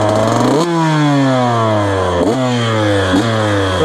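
A KTM 125 SX two-stroke motocross motorcycle revs loudly and close by, its engine pitch climbing and then dropping in several repeated blips with no talking.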